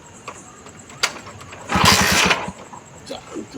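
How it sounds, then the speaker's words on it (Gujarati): A motorcycle left unused for three years sputters briefly into life, giving one loud, rough burst of under a second against quieter background noise. "બાઇક ચાલુ કર ને."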